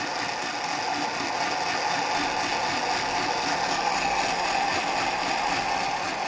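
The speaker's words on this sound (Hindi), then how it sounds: "मशीन को हम चलाएंगे और इसे बहुत अच्छे से हमने ब्लेंड कर लेना है।" A blender runs steadily, blending pomegranate seeds into juice with a continuous loud whirring grind that holds unchanged throughout, with no voices.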